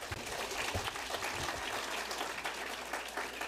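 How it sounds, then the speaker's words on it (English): Audience applause during a senior awards night for an early college academy in West Covina, a steady wash of many hands clapping at moderate distance for a few seconds, with no talking over it. "One last round of applause."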